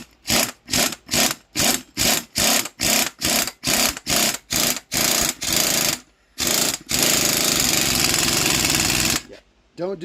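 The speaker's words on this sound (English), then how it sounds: "don't use an impact wrench on your spring compressor." An air impact wrench drives a spring compressor on a Mustang: about fifteen rapid, loud hammering bursts in a steady rhythm, a short pause, then one long continuous rattling run that stops abruptly.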